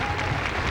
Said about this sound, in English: The crowd begins the clap.